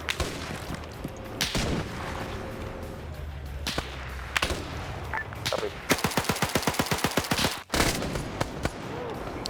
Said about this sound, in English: Submachine gun time.